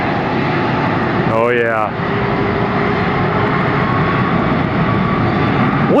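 Airliner jet engines spool up at Atlanta Hartsfield airport, a loud, steady, broad roar throughout, with a brief spoken voice near the start.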